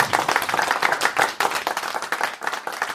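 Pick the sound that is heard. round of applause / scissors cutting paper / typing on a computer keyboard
round of applause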